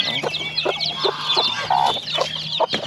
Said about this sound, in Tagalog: yan yung matapang na manok